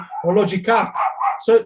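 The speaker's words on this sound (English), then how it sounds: "sorry, that's my dog. I cannot stop my dog." A pet dog barks and yips in a quick, excited burst of several close, loud barks, overlapping someone speaking indoors.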